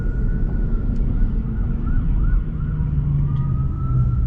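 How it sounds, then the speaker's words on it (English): An ambulance siren wails in Manhattan traffic, its rising and falling tone sitting over loud road rumble inside a moving car. "We have an ambulance coming."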